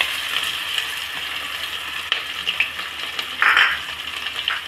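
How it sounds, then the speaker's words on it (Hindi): Asafoetida, cumin, garlic and green chilli sizzle and crackle in hot oil for masoor dal, a steady close frying hiss with small pops and a few clinks of a utensil against the pan. "अब अच्छे से तेल गरम हो गया है। इसमें मैं हींग और जीरा डालूँगी, लहसुन,"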